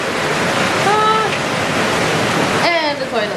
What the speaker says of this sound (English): as you can hear, it is pouring rain at the moment